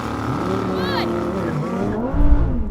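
A Lamborghini Huracan, Audi R8 and Nissan GT-R launch off a race start line, engines rising in pitch with tire noise, and a loud low surge near the end while a voice talks over it.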